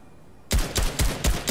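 Sharp gunshots in a solo battle royale video game match: after a quiet moment, four loud, punchy shots fire in quick, fairly even succession.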